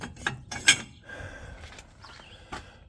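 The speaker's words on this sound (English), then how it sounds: "And it tightens up that chain." Metallic clicks and scraping as a turnbuckle is tightened on a support chain between a tractor's three-point winch and hitch, a few irregular clanks and rattles close by.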